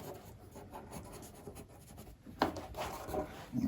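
Watercolour pencil sketching dune grasses on paper, quick faint scratchy strokes in short bursts, close and quiet, with a few firmer rubs toward the end.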